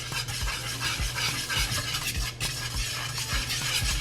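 A spoon mixes oil into flour in a bowl, making a steady rhythmic scraping and stirring with soft repeated thumps, close and continuous.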